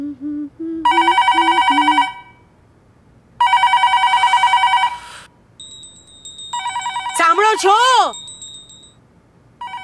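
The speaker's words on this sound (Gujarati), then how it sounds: "કોઈ તો ફોન ઉપાડો।" A telephone rings at home in three loud, evenly spaced bursts of electronic trilling, close by, with brief talking between the rings.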